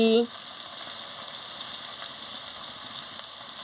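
Ginger and garlic paste frying in a pan at home: a continuous, even sizzle with a bright hiss, sustained for several seconds after a short clatter at the start.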